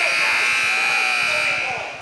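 A sustained electronic buzzer sounds at a basketball game between Blackman and Columbia, marking the end of the first quarter: a steady, loud tone that holds for about two seconds over crowd noise and voices, then fades slightly.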